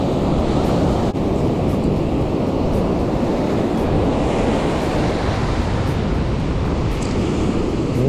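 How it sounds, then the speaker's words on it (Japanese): Steady ocean surf and gusting wind at a shore on a murky, choppy afternoon near high tide, a continuous loud roar of waves with wind buffeting close by and no voices. "下降りてみると結構波あるな"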